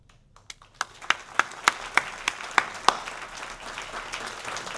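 At an academic convocation, a scattering of individual claps starts slowly and builds into light applause from the audience welcoming new faculty, the distinct early claps giving way to a softer, continuous patter.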